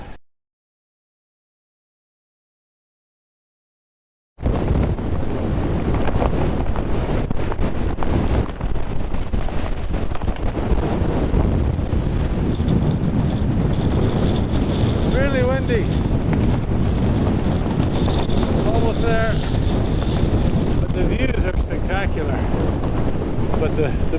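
After about four seconds of silence, strong sustained gusting wind roars and buffets the microphone outdoors by a river bridge as bad weather moves in, with a faint voice briefly audible beneath it.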